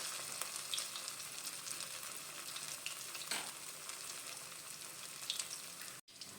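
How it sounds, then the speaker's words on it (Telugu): Cauliflower fries gently on a low flame for gobi rice, a soft, even sizzle with occasional light crackles and stirring scrapes, fairly quiet and steady throughout. "ఫస్ట్ క్యాలీఫ్లవర్ని లో ఫ్లేమ్ మీద వేయించుకోవాలి 5 minutes దాకా"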